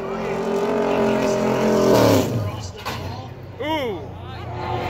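NASCAR super late model race car on its out lap at Berlin Raceway, engine droning steadily and then swelling as it passes close by. A voice talks over it partway through.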